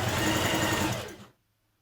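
A sewing machine runs a short burst along a jacket seam, a close steady whirr that winds down and stops, leaving near silence.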